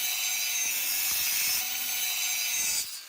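A saw cuts along a traced line on the sheet metal of a fire extinguisher shell, giving a steady, close, gritty rasp of rapid strokes that stops abruptly near the end, with no voices.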